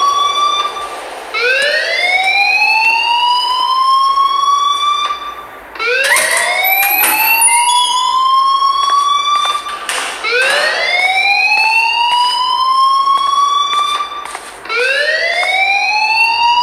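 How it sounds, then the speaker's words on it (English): A wailing alarm siren from the video game Life Is Strange, rising sweeps repeating about every four seconds, loud and continuous throughout, with no talk over it. "please turn off that alarm since that's your job"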